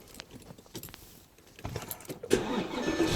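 A 2008 Porsche Cayenne engine starting: quiet handling noises, then a brief cranking and the engine catching into a moderately loud, rising run, heard close by with no talk.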